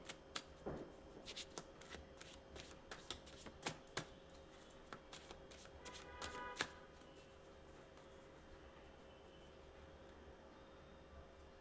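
Tarot cards shuffled by hand in a quick, crisp run of riffling flicks and taps, close and fairly quiet, thinning to a soft steady hiss after about seven seconds.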